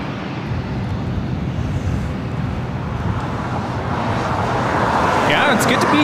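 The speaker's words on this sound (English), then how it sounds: "Next arrival, Delta Connection, SkyWest Flight 4099, coming in from Reno, Nevada. It's an E175." A Delta Connection SkyWest Embraer E175 regional jet arriving at LAX on its way in from Reno, heard as a steady broadband jet roar that swells slightly louder toward the end, with a faint rising engine whine near the close.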